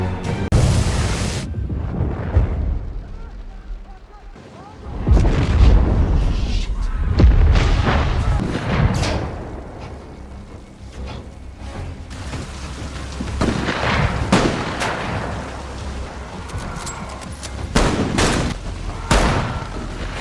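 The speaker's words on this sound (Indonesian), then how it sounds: "Saat itu Bill sempat terkena tembakan" Several sharp gunshots in The Last of Us episode 3 crack and boom one after another against a rumbling, rain-like background, loud and close with irregular spacing.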